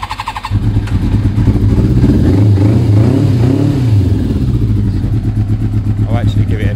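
A 1000cc Yamaha Thunderace YZF1000 motorcycle engine runs on choke while not yet warm, a loud close throbbing idle with a rise and fall in revs midway.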